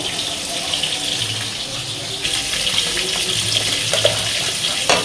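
Tap water runs steadily into a kitchen sink while produce for pineapple chutney is rinsed, a continuous splashing gush with some clatter, close and fairly loud throughout.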